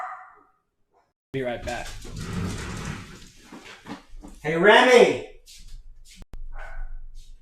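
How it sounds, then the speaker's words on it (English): A pet dog barks indoors with a short bark at the start and louder yelps later, mixed in with someone talking and calling out close by. "Let me get my dog."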